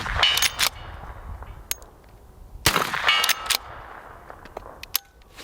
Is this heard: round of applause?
no